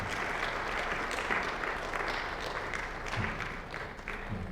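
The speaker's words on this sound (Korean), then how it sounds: "우리 함께 큰 박수로 환영의 인사 드리도록 하겠습니다" A church congregation in New York applauds to welcome a returning guest during a Sunday service, a loud, dense round of clapping that holds steady throughout.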